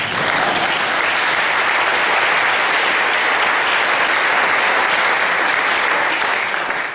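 Sustained audience applause at a church or school event fills the room, steady dense clapping from a large crowd at full loudness with no voices over it, lasting throughout.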